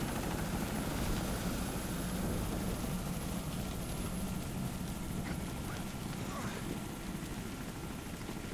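Helicopter in the video game Deadlight, a steady loud rotor drone with a dense low rumble running throughout, continuous and close with no talk over it.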